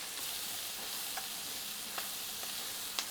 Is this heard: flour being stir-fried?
yes